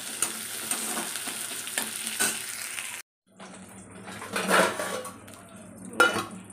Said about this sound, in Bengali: এই বেগুন ভাজা হয়ে গেছে